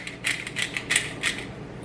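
A pepper grinder twisted in short bursts, about five crunchy ratcheting grinds close by, with no talking.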